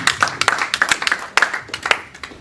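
An audience claps at a convention morning session of the Kenya Diaspora Homecoming Convention, with loose, uneven hand claps of moderate loudness scattered through the room rather than a full roar.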